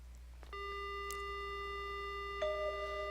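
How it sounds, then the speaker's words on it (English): A telephone rings in the horror game Death Mark, a steady electronic tone held for about three seconds with a brief blip partway through, alone and fairly quiet. "The phone begins to ring."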